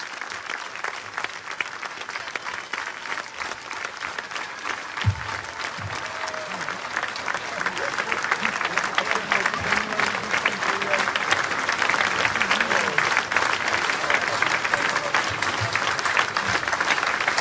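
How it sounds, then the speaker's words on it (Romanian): Audience applause at a concert during a Chișinău city days event in Suceava, Romania. It starts as moderate clapping and swells into a dense, sustained ovation from a large crowd that continues to the end. "Și noi putem să laudăm prin aplauze și prin recunoștința noastră în scenă pentru dumneavoastră"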